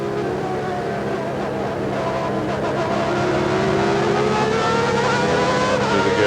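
Onboard Ayrton Senna's Formula 1 car at the 1989 Japanese Grand Prix, a loud, continuous high-pitched engine scream climbs steadily in pitch as the car accelerates up the straight, with a commentator talking over it.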